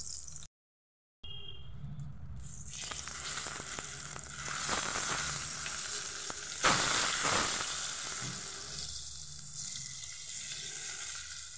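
Eggplant pieces frying uncovered in oil crackle and sizzle steadily up close, the bubbling growing louder and busier midway with a sharp burst of spitting, then settling into an even fry with no voices.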